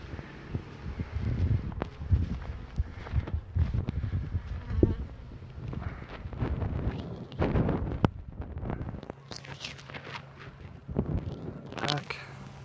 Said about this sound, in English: Bees are not happy.